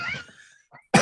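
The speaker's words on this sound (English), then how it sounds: "you were coughing again" A single loud, abrupt cough bursts out at the very end of a Zoom book club call, following a stretch of faint murmuring and a brief quiet gap.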